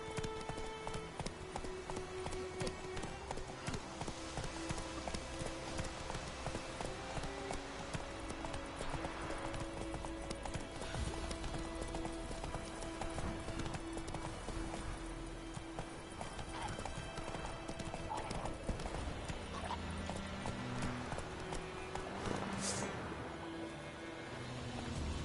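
The horse Roach from The Witcher 3: Wild Hunt gallops in a long, steady run of rapid hoofbeats, with a neigh partway through over a continuous game soundscape; a little speech sits faintly in the mix.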